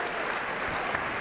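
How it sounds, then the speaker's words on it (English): Fans at a 2003 Augustana College men's basketball game at the Carver PE Center in Rock Island, Illinois, applauding a senior player checking out for the last time; a steady, dense round of clapping fills the gym throughout. "Gets a good round of applause from the fans."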